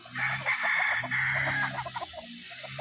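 Chickens at a game fowl farm, raptor bloodline pullets among them, with a rooster crowing loudly and clearly in one long call, followed by scattered clucking and softer bird sounds nearby.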